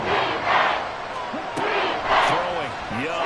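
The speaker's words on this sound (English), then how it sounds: "This crowd turning up the decibel level." A stadium crowd at a Falcons football game roars loudly and without a break during a third-and-long play, swelling in waves. Faint whistles and shouts rise above the din.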